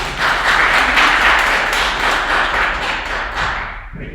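Audience at a university piano master class applauding a performer, dense sustained clapping close and loud, tapering off toward the end.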